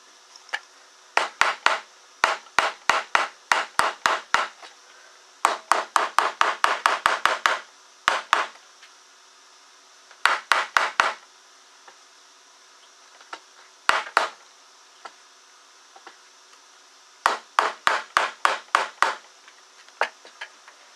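Fret wire being hammered into a guitar fretboard during a refret: sharp, close taps in quick bursts of several strikes each, separated by short pauses, with no talking.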